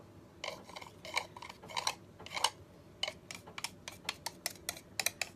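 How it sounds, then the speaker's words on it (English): Faint, irregular tapping knocks, a painting pushed by air from a vent bumping against a wall, coming in clusters and growing quicker toward the end over a quiet background hum. "the painting comes in and out from the wall and hits the wall"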